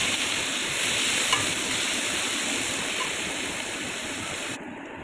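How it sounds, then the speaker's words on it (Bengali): Onions frying in hot oil after a cumin tempering, a dense, steady, loud sizzle that hisses without a break from close by, then cuts off abruptly at the end. "ফোড়ন দিয়ে পেঁয়াজ দিয়ে লাল লাল করে সেগুলোকে ভেজে দেবো"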